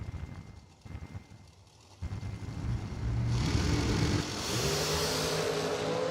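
Dragster engines launch down a drag strip at a sportsman drag racing event, rising from a low rumble into a loud, sustained roar that holds steady as the cars accelerate away.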